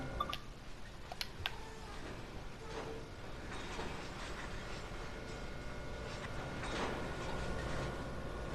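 A New York City Sprinter train coasting on rails in Train Sim World gives off a faint, steady rolling rumble with a few sharp clicks early on, quiet and continuous.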